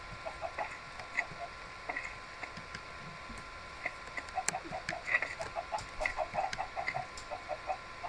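Chickens from the Minecraft Mo' Chickens mod clucking in short, soft bursts, scattered at first and growing busier toward the end over a quiet background hiss.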